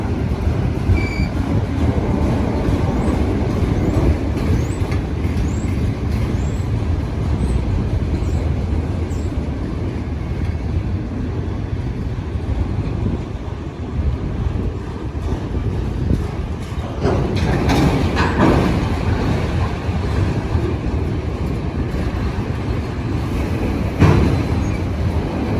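A long freight train on the Indiana & Ohio Railway rolls past close by, a steady loud rumble of wheels and cars with faint wheel squeals and clatter, continuing throughout without talk.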